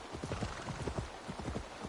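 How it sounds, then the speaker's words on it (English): Horse hooves clip-clop at a steady trot across the ground in Assassin's Creed Valhalla, a close, even run of hoofbeats with no voice over them. "the noise changes of the hooves depending on what you're on"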